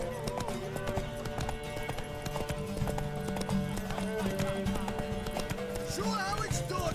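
Horse hooves clip-clop steadily in The Witcher 3: Wild Hunt, a repeated rhythmic tapping that runs through the whole stretch beneath game music, with a brief whinny-like sound near the end.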